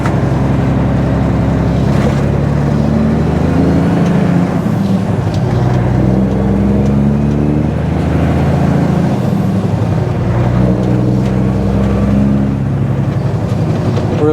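A work truck's engine drones loudly and steadily throughout, its pitch sliding down and up as the driver downshifts, with no talking over it.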